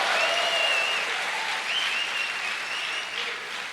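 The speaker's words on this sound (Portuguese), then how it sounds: "Pode dar uma salva de palmas ao Senhor?" A church congregation claps together in sustained, even applause that fills the room, dense and continuous for several seconds before easing slightly.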